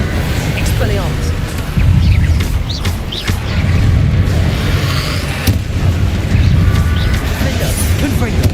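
Spell explosions from Bombarda and Confringo in Hogwarts Legacy, loud booming blasts and crashes layered over dense continuous combat noise throughout, with no break in the din.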